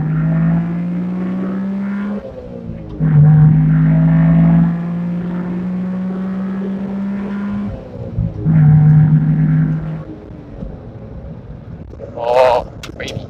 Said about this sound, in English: let's downshift a couple times. Like just a second. Let you see some shifting action.